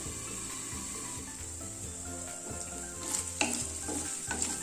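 Chicken and macaroni masala cooking in a covered pan over medium flame, a steady close sizzling hiss with a few louder stirring or lid scrapes near the end, no talking.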